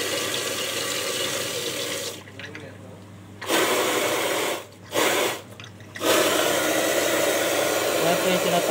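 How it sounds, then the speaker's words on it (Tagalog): Dirty backwash water gushes loudly out of a fan coil unit during coil cleaning, a steady rushing flow that briefly drops off twice before surging back, with a voice speaking over it. "Yan po yung tinatawag na backwash."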